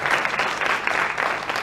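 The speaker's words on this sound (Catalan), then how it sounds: "Un fort aplaudiment" Audience applause at a closing ceremony of a short-story contest held by a Falla in Sueca, Spain; dense, steady clapping from a sizeable crowd throughout, close and continuous with no speech over it.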